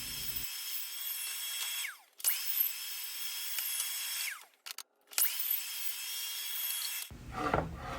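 A power saw cuts dense 5/4 maple board in passes, a loud close whining bite that stops and restarts twice with brief quiet gaps, then trails off into lighter rubbing.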